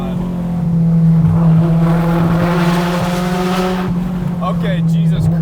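Very loud Honda S2000 AP2 engine, naturally aspirated and revving toward 8,400 rpm, roars from inside the car with a sustained rising and falling howl that dominates the whole stretch before easing near the end.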